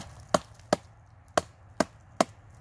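A Cold Steel SRK knife is hammered through a freshly felled log with a wooden baton, producing six sharp, hollow knocks at an uneven rhythm, close and fairly loud against a quiet outdoor background.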